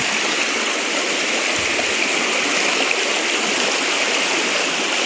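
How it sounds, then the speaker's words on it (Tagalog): Water rushes steadily through a shallow stream on a farm, a loud, continuous broadband wash heard close by with no pauses and no speech. "Ayan, so yung agos ng tubig"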